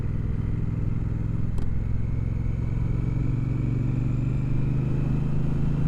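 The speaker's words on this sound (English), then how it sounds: "I don't think I've heard a nicer sounding bike than this." A 2024 Speedmaster 1200 motorcycle being ridden, its engine holding a steady, rich low rumble with a slowly rising drone under faint wind, loud and constant with no talking.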